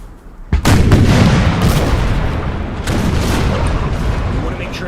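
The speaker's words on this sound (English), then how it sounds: "let's just let the artillery do some work" Artillery barrage in the Imperial Splendour strategy game: a sudden loud boom opens a sustained rumble of cannon fire, with further heavy blasts rolling through a dense battle din, and faint talk underneath.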